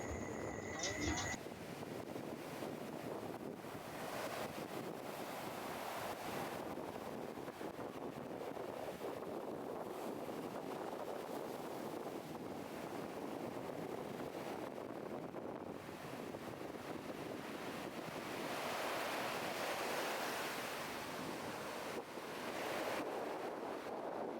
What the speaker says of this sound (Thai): ห้ามเล่นน้ำนะครับเพราะคลื่นมันแรงเลย